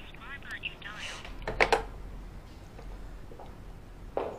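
A landline telephone is dialed indoors, giving a short burst of keypad tones near the middle, set among room noise and the brief murmur of voices nearby.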